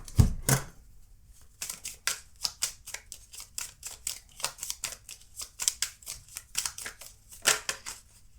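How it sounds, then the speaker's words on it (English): Oracle cards shuffled by hand, a steady stream of sharp papery flicks and snaps with a louder handling bump at the start, close up and with no voices. "Okay, let's pull your oracle cards."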